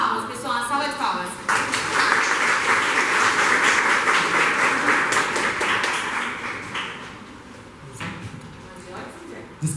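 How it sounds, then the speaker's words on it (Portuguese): An audience breaks into a sustained round of applause at a Portuguese-language poetry talk, dense clapping filling the room for several seconds and tapering near the end, with a voice briefly heard over it. "E nessa salva de palmas, pessoal, salva de palmas."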